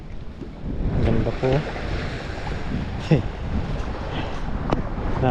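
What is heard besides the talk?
ocean waves crashing on the shore with wind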